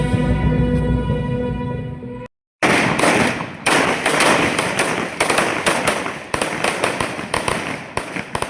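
Ceremonial rifle salute fired by police at a memorial parade in Rajasthan, a series of loud, sharp cracks in a rapid irregular volley after a short silence, ringing outdoors.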